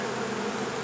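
Honey bees buzzing steadily during an indoor bee removal in Mission, Texas, a dense continuous hum at even loudness with no voices, as if heard from inside or near a bee vacuum box.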